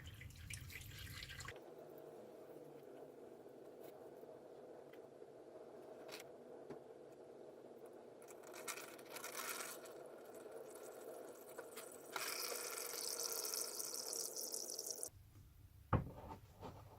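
Engine oil drains from a Ford Focus 1.0 EcoBoost after the sump bolt is undone, a steady trickling, dripping pour that runs unbroken for about fifteen seconds before stopping, with one sharp knock near the end.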